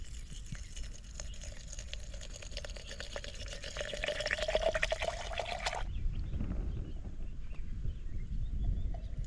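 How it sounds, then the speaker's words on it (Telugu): Water pours steadily into hollow bamboo tubes being filled for bamboo chicken biryani, a continuous splashing stream that rises slightly in pitch as the vessel fills, then stops abruptly, leaving quiet outdoor background. "సో నీళ్ళు అయితే వేసుకోవాలి"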